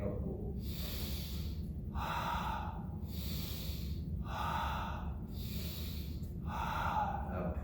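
Steady yoga breathing in a Lionflow sequence: six alternating breaths, exhales and inhales each about a second long, close and clear over a constant low hum, with no talking.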